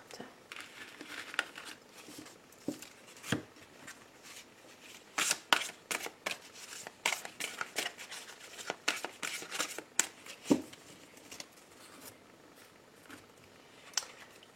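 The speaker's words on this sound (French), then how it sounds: "Je vais ramasser ces cartes." Tarot cards are gathered and shuffled close up, giving a busy run of soft riffling flutters, slaps and papery crinkles in uneven bursts, quiet and without talk.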